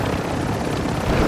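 A helicopter in a video game, its rotor throbbing loud and close with a dense, steady roar across the whole moment.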